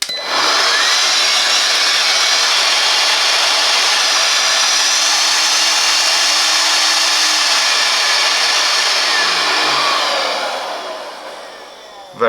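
Parkside PAUGB A1 20V cordless leaf blower on its first speed setting, a loud steady rushing whine of air and motor holding constant for about ten seconds before winding down near the end.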